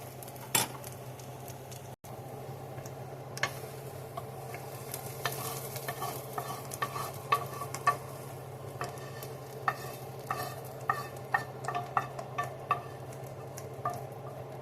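Peppers, onions and celery are stirred into hot homemade spaghetti sauce, with a low bubbling sizzle under repeated clinks and scrapes of a utensil against the pot.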